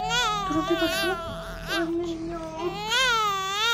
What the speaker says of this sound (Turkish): Ya bebek sesi mi geliyor sanki?